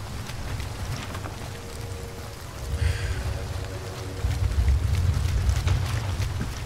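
Steady hiss of heavy rain in a sniper video game, a continuous wash that grows denser and louder toward the end, with a low rumble underneath.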